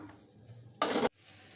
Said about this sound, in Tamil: பொடியாக நறுக்கி வச்சுருக்க வெண்டைக்காவை இப்போ வாணலியில் சேர்த்துடலாம்.